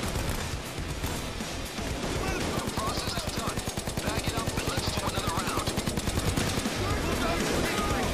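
Gunfire in the video game Payday 2 during the Cook Off heist on Death Wish difficulty: dense, continuous bursts of automatic weapons with overlapping shots for the whole stretch, loud and relentless.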